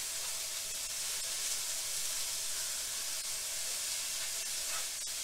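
Vegetables for egg roll filling, lightly salted, cooking in a pan with a soft, steady sizzle and hiss that stays even and fairly faint throughout, with no talking.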